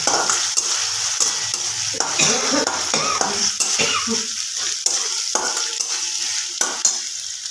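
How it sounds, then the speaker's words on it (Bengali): Ginger garlic paste fries over softened onions in a pan with a constant bright sizzle, while a utensil scrapes and clatters against the pan in repeated close stirring strokes. "ওর মধ্যে দিয়ে দেবো একটু আদা রসুনের পেস্ট"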